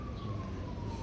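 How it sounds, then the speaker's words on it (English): An emergency siren holds a steady, slowly sliding tone at moderate distance over a low rumble of road traffic. "Sirens trying to stop me."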